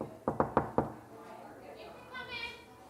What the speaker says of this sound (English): That was the least manly knock I've ever done in my life.